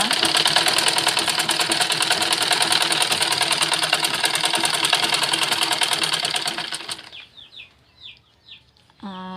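A sewing machine stitches a sandal, its padded inner lining sewn in place, with a loud, steady run of rapid stitching for about seven seconds before it stops, followed by a few short, quieter clicks and whirs.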